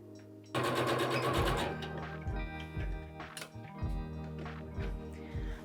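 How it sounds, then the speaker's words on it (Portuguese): A sewing machine topstitches a fabric phone pouch, starting with a fast, loud run of needle clatter, then slowing to short, rhythmic bursts of stitching up close. "Fiz o pesponto todo bonitão de um lado, volto pro outro lado."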